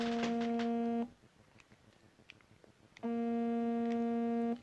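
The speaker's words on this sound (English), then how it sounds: "He's ringing back." Mobile phone ringing with an incoming call: two long, loud electronic ring bursts separated by a quiet pause, steady and close, with no talk over it.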